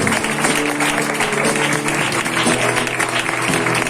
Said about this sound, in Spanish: Dar ese aplauso para el Señor.